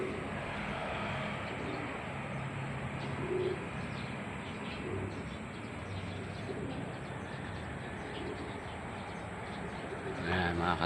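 Pigeons coo in a loft amid steady broadband background noise, soft low murmuring calls scattered through, with people talking nearby.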